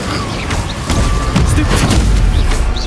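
Incendio fire spell cast in the Hogwarts Legacy video game, a loud booming whoosh of flame that surges around the one-second mark and roars on steadily, with game effects and speech mixed in.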